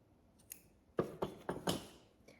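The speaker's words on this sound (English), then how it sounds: "I'm gonna take my scissors" Several crisp snips of scissors cutting yarn close by, a quick irregular run of four or five cuts with short pauses between them.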